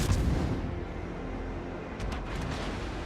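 Warship guns boom in a World of Warships naval battle, a deep low rumbling roar of heavy gunfire with a few faint sharper cracks later on.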